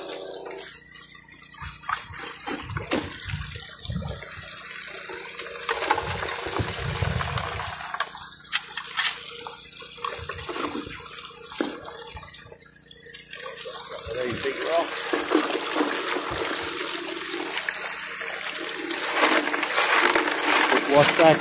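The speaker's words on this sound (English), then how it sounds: "basically just going to slow down all the water as it first comes into the sluice" Water gushes and splashes steadily through a 6-inch highbanker sluice during gold prospecting, a continuous rushing flow that swells toward the end, with a person talking over it.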